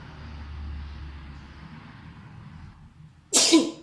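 A single sharp sneeze bursts out near the end after a few seconds of quiet low hum.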